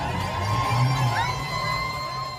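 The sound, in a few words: crowds cheering from rooftops and balconies in Iran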